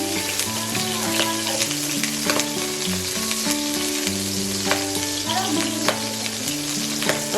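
Garlic and onion sauté in a hot oiled pan for sotanghon guisado, a steady loud sizzle throughout with melodic background music underneath.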